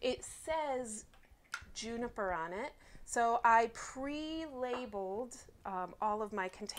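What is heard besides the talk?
No distinct noise like a dog, phone or traffic.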